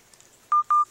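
Two short, clear electronic telephone tones sound in quick succession, close and moderately loud, against a quiet background with faint chatter during a card game of Magic.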